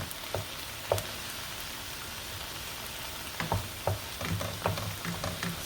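Ground chuck fries in a pan with a soft, steady sizzle, broken by occasional clicks and scrapes from stirring that grow busier toward the end.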